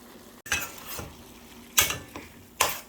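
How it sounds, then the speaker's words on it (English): Jerk shrimp with thyme and margarine are stirred in a hot pan, giving a few distinct scraping, clattering strokes at uneven intervals over a faint background sizzle. "In between cooking, stir the shrimps to make sure the seasoning gets all mixed in"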